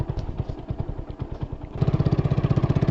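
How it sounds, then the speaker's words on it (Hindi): A motorcycle engine drives a homemade jugaad vehicle, running close by with a choppy, pulsing idle that settles into a steadier, louder rhythmic throb partway through. "तो अभी दोस्तों बाइक को स्टार्ट कर लिया है हमने"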